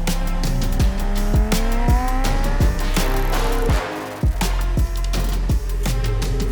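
A Lamborghini Huracan Tecnica on a race track, its engine droning loud and steady with gear-change blips and sharp transient knocks as it follows an instructor's Huracan STO.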